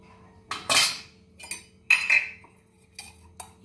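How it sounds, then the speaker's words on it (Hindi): Jalebi batter whisked with a spoon or whisk in a bowl, heard as several separate bursts of scraping and clinking utensil strokes at close range, with short quiet gaps between them and no talk. "आप चम्मच की मदद से या फिर विस्कर की मदद से इसे फेंट सकते हैं।"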